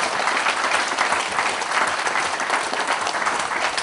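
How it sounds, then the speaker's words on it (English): A seated audience at a talk gives a round of applause, dense steady clapping close by that holds evenly for several seconds without voices. "Grab a round of applause for Alan for his lifetime work."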